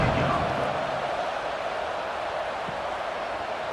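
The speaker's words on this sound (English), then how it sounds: "this crowd is buzzing after that last score" Crowd noise in a Kansas at Texas Tech college football video game simulation, a broad, continuous stadium roar filling the background, steady and fairly loud from start to finish.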